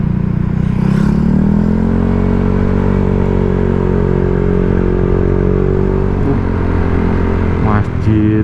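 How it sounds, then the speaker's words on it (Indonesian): Engine drone of a motorcycle, close and loud, with a steady low rumble that rises slightly in pitch and then eases off, suggesting a pass nearby. The rider's own Honda Vario 125 with an aftermarket racing exhaust may be part of the sound. "Ada motor nih."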